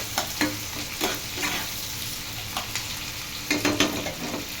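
Onions fry in hot oil with a bay leaf in a pan for a chicken dish, a continuous sizzle broken by several sharp scrapes and clatters of a spatula stirring, close and fairly loud.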